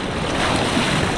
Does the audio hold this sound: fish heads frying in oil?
no